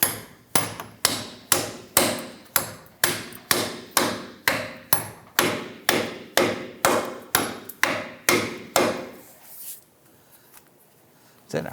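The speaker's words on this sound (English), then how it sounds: "we're going to give this a few taps" A hammer taps a front upper control arm bushing into its insert on a 1997-2006 Jeep Wrangler, about seventeen sharp, evenly spaced strikes close up, then a quiet pause with one faint knock at the end.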